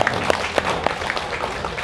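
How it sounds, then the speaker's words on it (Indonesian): Brief audience applause for a junior high school at a school alumni association inauguration in Jepara, a dense wash of clapping with a few sharper claps standing out. "tepuk tangan untuk SMP 1 Pecangan"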